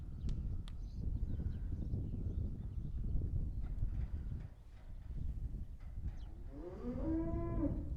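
Holstein cattle moo on a farm, one long low bellowing call rising near the end over rustling and faint hoof sounds, fairly close.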